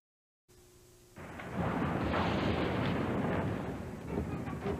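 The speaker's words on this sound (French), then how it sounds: "Explosion imminente." An explosion bursts in after a brief low rumble, then sustains as a dense, roaring blast with crackling debris that fades only slightly, loud and close, with no voices.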